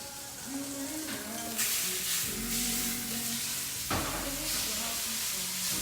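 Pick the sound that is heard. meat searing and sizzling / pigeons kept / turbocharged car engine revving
meat searing and sizzling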